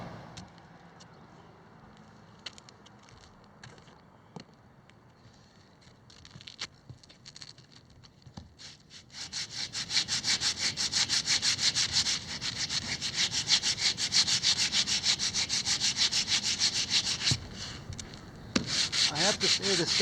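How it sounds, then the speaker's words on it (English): Steady, rapid back-and-forth rasping of a sanding block with 100 grit sandpaper on Elmer's Pro Bond wood filler, close and continuous, starting softer and growing louder and denser. "I'm going to start sanding. I have a sanding block with some 100 grit sandpaper"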